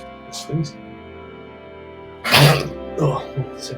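One loud, close sneeze bursts out during a relaxed conversation, and voices talk before and after it.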